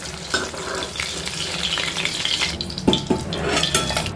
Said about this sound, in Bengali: মাছের একটা সাইড ভাজা হয়ে গেছে আর একটা সাইড আমি খুন্তির সাহায্যে উল্টে নেব